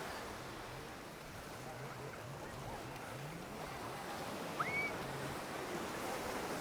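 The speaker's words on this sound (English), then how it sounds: "This is the Indian Ocean" Ocean waves on the Indian Ocean shore at Mombasa, Kenya, a continuous broad wash of surf and wind, fairly distant and steady, with faint voices underneath and a brief chirp-like sound near the end.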